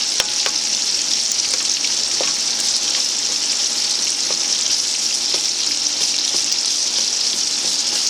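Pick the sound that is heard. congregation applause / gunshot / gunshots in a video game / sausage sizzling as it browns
sausage sizzling as it browns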